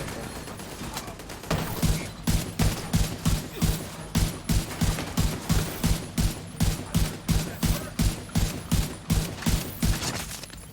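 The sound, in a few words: blind gunfire in The Division 2 video game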